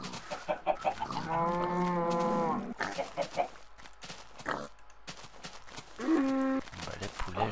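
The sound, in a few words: chickens clucking in the video game Minecraft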